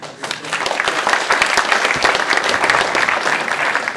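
A keynote audience at a Bitcoin event applauds, dense steady clapping from many hands filling the space for several seconds.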